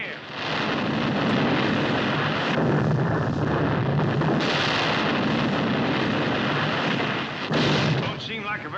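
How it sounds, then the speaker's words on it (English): A continuous roar of explosions throws water into the air, loud and sustained with shifts in intensity, masking any other detail. "Look at them explosions throw that water in the air."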